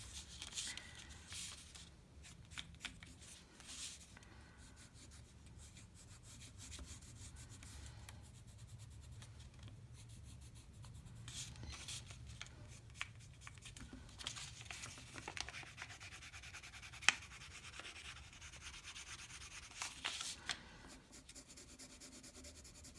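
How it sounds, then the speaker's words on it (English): A pen or pencil colours in hair on a drawing with soft, close scratchy rubbing strokes that repeat in quick irregular bursts over a quiet background, with one sharper tap near the end. "I'm going to colour in her hair."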